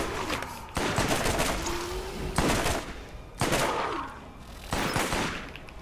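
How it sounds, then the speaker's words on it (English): A fire-damage assault rifle in Borderlands fires loud, sharp bursts of gunfire, about five separate volleys in quick succession, each dying away before the next. "Isn't this better compared to the other assault rifle I get?"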